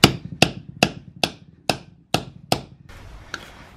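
Hammer striking a fat chisel to knock a differential bushing out of a Ford 8.8 Explorer independent rear suspension, seven sharp metallic whacks at a steady rhythm, close and loud, then a softer final tap.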